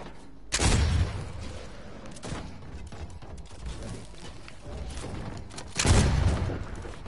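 Gunfire in a first-person shooter during a 1v1 match: two loud, sharp bursts of shots several seconds apart, with quieter clicks and clatter between them.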